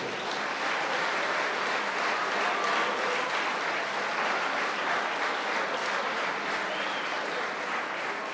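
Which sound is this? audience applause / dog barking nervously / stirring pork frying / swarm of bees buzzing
audience applause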